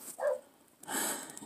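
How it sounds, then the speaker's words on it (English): A dog gives a single short bark, then a second sharper burst after a pause, heard indoors through a bathroom window in a snowy setting, fairly faint and with no talk. "And Hercules has noticed the snow woman and is barking, trying to scare her off."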